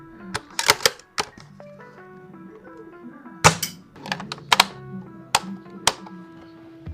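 A spring-powered L96 airsoft sniper rifle being cocked, its bolt drawn fully back: sharp mechanical clacks and clicks arrive in quick clusters, close and crisp, over a faint steady background hum.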